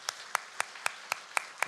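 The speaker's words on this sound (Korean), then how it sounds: "우리 축복의 박수 하도록 하겠습니다." Church congregation applause during a Sunday service, heard as evenly spaced sharp claps in a steady rhythm, about seven beats, fairly close in a reverberant room.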